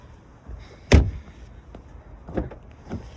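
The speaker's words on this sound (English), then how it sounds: "And I'll open up this back door as well." Rear door of a BMW G80 M3 (6-speed manual) being opened, a sharp close latch clunk followed by softer handle and hinge clicks, near and alone.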